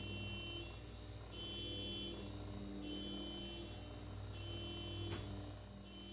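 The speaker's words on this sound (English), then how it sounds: "Now I gotta deal with the car alarm going off." A car alarm sounds at a distance in a workshop setting, its repeating electronic tones pulsing in a steady cycle over a constant low hum, faint and unbroken for the whole stretch.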